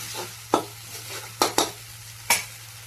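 Masala fries in oil in a wok while a spatula stirs it, giving a steady close sizzle broken by four or five sharp scraping strokes at irregular intervals, with no voices.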